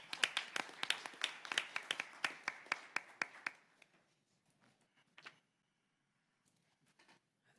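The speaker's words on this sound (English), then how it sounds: "Let's give them a big round of applause" Applause for presenters at a school board meeting, a small group clapping close by with distinct individual claps, fading out after about four seconds to near silence with a few stray claps later.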